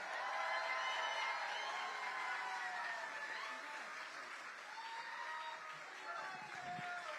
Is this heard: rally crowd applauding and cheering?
yes